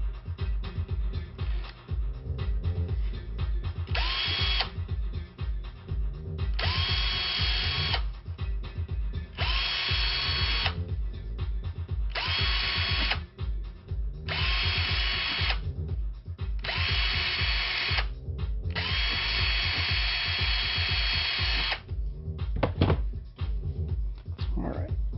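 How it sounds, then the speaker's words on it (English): Power drill whirring in repeated bursts as it cleans out a screw hole while a Knight Rider season 2 dashboard is fitted with LCDs and frames, the motor revving on and off up close over continuous background noise. "Clean out the rest of this hole real quick with the drill."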